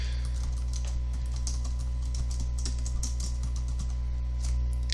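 Fast typing on a computer keyboard, a dense run of light close key clicks with no pauses, over a steady low hum.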